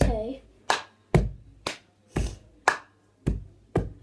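Bare hands clap and tap out the cup song rhythm with no cup, eight crisp close hits in an uneven repeating pattern, loud and alone.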